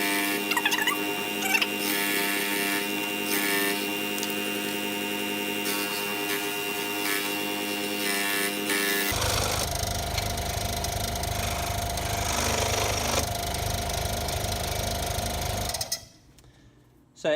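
A scroll saw cuts wood along straight lines, giving a steady reciprocating buzz with a humming motor drone that shifts to a deeper, rattling tone partway through before the machine shuts off near the end.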